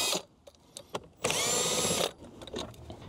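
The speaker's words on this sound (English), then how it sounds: "let's remove the 10 millimeter bolts" A power drill spins out 10 millimeter bolts on a 2016-2019 Lexus RX: one sustained whirring burst of about a second in the middle, surrounded by short clicks and knocks from handling, close up.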